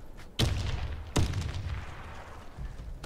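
Grenade blasts in the Warface shooter game: two sharp, heavy booms about a second apart, each trailing into a rumbling decay over steady background noise.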